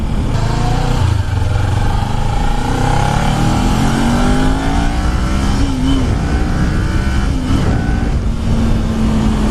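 A brand-new Kawasaki Ninja 400 motorcycle accelerates hard up to about 7,500 RPM, its engine loud and close with rising tones climbing through gear changes amid wind rush.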